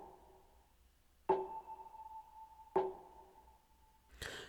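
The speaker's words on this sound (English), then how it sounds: "So all together, this is what the clap sounds like." A layered clap sample in an R&B beat strikes twice at an even interval with a sharp attack, over a sustained soft tonal pad, and a third hit begins at the end.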